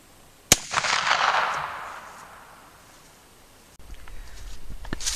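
A single sharp gunshot from a handgun firing a Barry's 240 grain hollow point round, loud and close, followed by a long rolling echo that fades over a couple of seconds.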